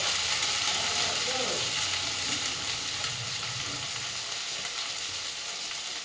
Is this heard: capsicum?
yes